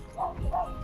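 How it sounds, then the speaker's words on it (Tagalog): A dog on a rural road gives two short, faint barks in quick succession, somewhat distant, with a faint voice in the background. "may aso rin"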